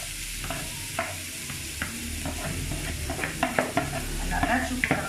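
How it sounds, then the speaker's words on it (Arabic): Chopped onion sizzles in hot oil in a pan while kibbeh is being made, a steady frying hiss broken by sharp scrapes and clicks from stirring against the pan. "انا هون عندي الزيت حمي، بدي انزل اول شي البصلة"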